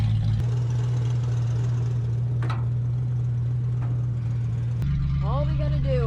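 An old Mercury car engine runs with a steady low drone while it is driven, close by and continuous. A brief tonal chirp shifts the sound near the end.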